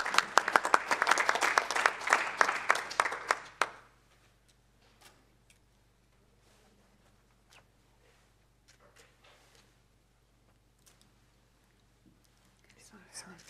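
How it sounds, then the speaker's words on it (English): Audience applause at a roundtable on e-learning platforms, a dense burst of clapping lasting about four seconds, then quiet room noise with scattered faint clicks and murmurs. "they deserve a big round of applause"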